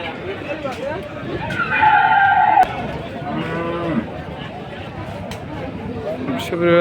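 Friesian cattle and bulls low a few times amid a busy, noisy cattle market crowd at Eid, with people talking and engines rumbling in the background.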